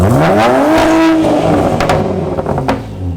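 A loud straight-piped BMW 335i engine revs hard and falls back, followed by a series of sharp crackling exhaust pops, close and aggressive.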